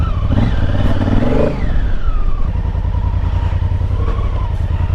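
A Honda Africa Twin motorcycle rides off-road, its engine revving hard at the start then settling into a steady, close, throbbing run with clattering over rough ground.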